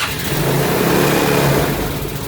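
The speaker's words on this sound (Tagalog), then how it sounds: "testingin na po natin pa started yung motor" A Yamaha Mio Soul scooter engine, freshly refreshed after knocking, fires up and revs steadily with a loud, continuous mid-pitched drone that lifts briefly before settling, heard close with no voices.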